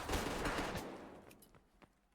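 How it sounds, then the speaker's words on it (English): Gunshots in an esports match of a tactical shooter, a quiet, distant burst of rapid fire that fades into scattered single shots. "Shots ring out"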